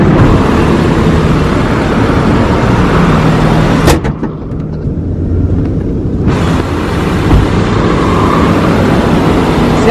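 A 2021 BMW X4 xDrive 20i reversing slowly, a steady low engine and road hum that dips briefly mid-way, with a soft clunk, heard up close and without talk.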